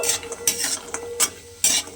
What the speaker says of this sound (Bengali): সেই বড়িটা আমি তেলের মধ্যে দিয়ে দিলাম দিয়ে বড়িটাকে আমাকে ভালোভাবে ভেজে নিতে হবে